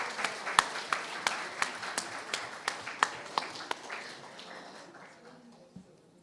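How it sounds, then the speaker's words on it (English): An audience at an evening meeting with the Prime Minister of St Vincent and the Grenadines gives a round of applause, a modest patter of claps with sharp individual taps that gradually fades out. "So if you give yourselves a round of applause."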